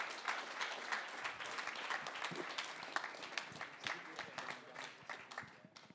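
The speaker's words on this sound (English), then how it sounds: "A big applause for everyone." Dense, steady applause from an audience at a tech meetup evening event fills the room, close and continuous, with crowd voices mixed in.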